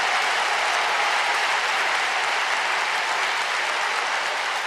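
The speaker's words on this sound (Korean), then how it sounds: "이때 박수를 치는 겁니다" A large congregation applauds steadily and loudly throughout, with dense, even clapping and no pause, at a 2022 Korean church union Easter worship service held at Yoido Full Gospel Church.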